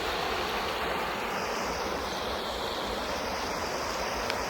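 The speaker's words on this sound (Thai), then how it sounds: "น้ำไหลท่วม" Floodwater pouring over a rural road toward a village in Buriram, a steady, loud broadband rush of flowing water that continues unbroken throughout, with no voices over it.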